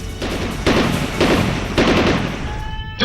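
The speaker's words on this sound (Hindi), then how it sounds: "जब बरसी गोलियां सरहद पर" Rapid bursts of gunfire crackle in several loud volleys, with brief gaps between them, under a steady rumbling background.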